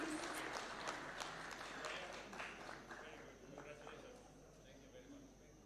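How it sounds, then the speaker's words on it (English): Applause for award winners at a Taxpayer's Day ceremony at State House, Kenya: a steady, moderately distant crowd clapping that slowly fades, with some talk running beneath it. "A round of applause kindly."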